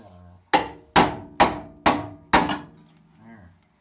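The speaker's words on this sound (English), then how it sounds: "Hand me that hammer. Hand me the hammer." Five heavy hammer blows strike metal in a car engine bay in a steady rhythm, each ringing briefly before the next, followed by a faint murmur.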